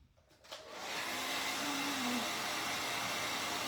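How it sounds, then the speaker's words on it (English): A heat tool blasts steadily while heat setting a transfer, starting after a couple of faint clicks and holding a loud, even rushing hiss with a faint whine through to the end. "we're going to heat set it before we put the ribbon on there."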